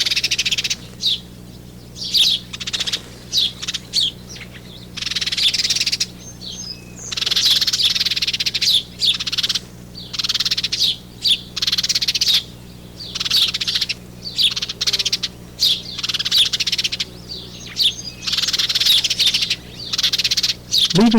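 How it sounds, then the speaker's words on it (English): House sparrows give a steady liquid chatter of rapid chirps from a backyard bush, calling continuously and fairly close with brief pauses, over a faint low hum. "One chases the other back into the bush, all the while making a distinctive liquid chatter."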